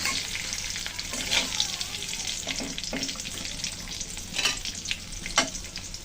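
Singi fish frying in hot oil in a home kitchen, a steady crackling sizzle with occasional louder bursts and scraping of a utensil, no talk.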